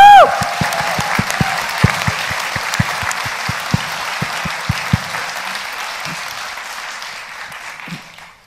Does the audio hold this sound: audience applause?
yes